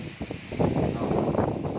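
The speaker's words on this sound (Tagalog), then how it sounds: "Sobrang lakas ng hangin dito." Strong wind buffets the microphone in rumbling, uneven gusts, loud and close, with no other clear sounds.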